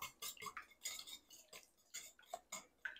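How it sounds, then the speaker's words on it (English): Eggs and milk being whisked together in a bowl, a quiet run of quick rhythmic clicks and taps of the whisk against the sides, heard alone without talk. "I'm just gonna whisk that up just a little bit"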